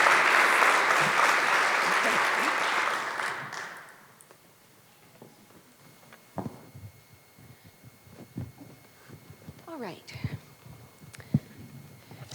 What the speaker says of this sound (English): Can we give them all a nice, warm round of applause?